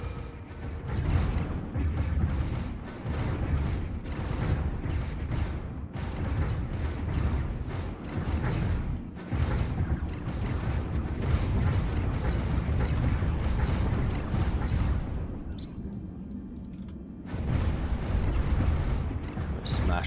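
Space fleet battle in Stellaris against a cultist fleet, with dense, continuous booming weapon fire and explosions rumbling low and loud throughout and a brief lull near the end.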